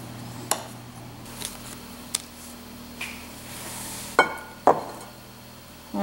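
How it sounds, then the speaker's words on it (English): A knife dices a stick of butter into cubes, giving several sharp, separate taps and clinks against a board or dish, sparse and irregular in a quiet kitchen. "I'm just going to dice the butter up a little bit."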